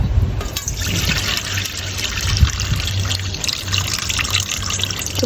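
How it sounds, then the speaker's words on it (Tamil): Fenugreek seeds are washed in water in a home kitchen, giving a continuous close sloshing, trickling and swirling of liquid with no voices. "கொஞ்சம் வெந்தயம் நல்ல வடிவாக கழுவணும் வெள்ளையாக வர"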